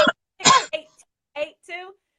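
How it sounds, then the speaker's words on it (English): A few short, harsh coughs sound up close, separated by brief pauses. "Thank you for coughing in that one"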